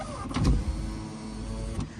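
A Lexus or Camry door's power window motor, faulty so the glass drops back down after auto-up, whirs loudly nearby with a thump near the start, a steady motor hum, then another clunk as it reverses.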